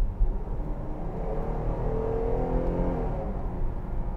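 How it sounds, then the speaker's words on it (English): A naturally aspirated 2021-2022 Jeep Grand Cherokee L accelerating in sport mode, its engine giving a steady, rising hum and whir from inside the cabin with no talking. "So I'm gonna put my foot down a little bit, give it a little bit of gas."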